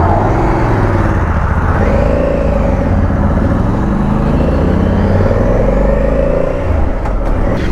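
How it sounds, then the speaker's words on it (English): Road traffic rushes past motorcycle riders out on a winter ride, a loud, continuous rumble of engines and tyres that stays close and unbroken throughout. "Oh, the traffic that never stops."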